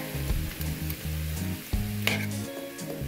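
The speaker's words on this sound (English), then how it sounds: "Let's give this a little stir here" Chicken stir-fry crackling steadily in a hot pan while a utensil stirs it, the sizzle loud and close with a few scrapes and clinks, and no one talking.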